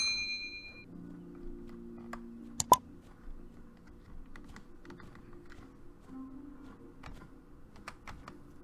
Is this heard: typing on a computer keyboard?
yes